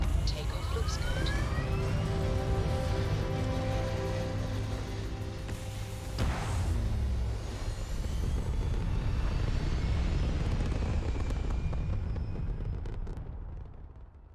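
A spaceship lifting off in Starfield: a loud, steady engine roar with rising whine-like tones builds and holds, then fades away at the end, with a brief voice speaking partway through.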